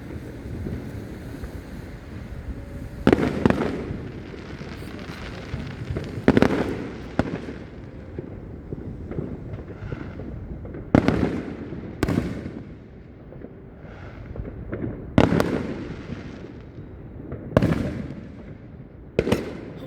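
Fourth of July fireworks going off outdoors, a series of distant booms and cracks spaced a few seconds apart over steady wind noise, with no talk.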